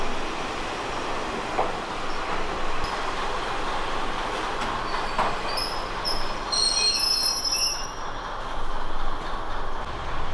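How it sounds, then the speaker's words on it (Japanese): An up train on the Kominato Railway pulls into a country station platform, its wheels rumbling on the rails while high metallic squeals rise and waver as it slows, loud and near. "上り列車の到着です。"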